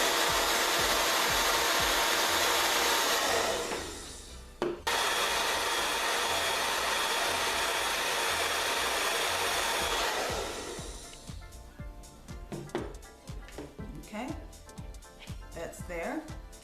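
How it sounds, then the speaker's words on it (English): A hair dryer blows loudly and steadily on a synthetic wig's hair, briefly cutting out, then running on before stopping, with a person talking afterward. "take my blow dry and I'm going to blow dry that hair"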